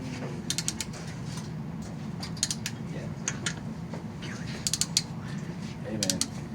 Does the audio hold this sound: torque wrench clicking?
yes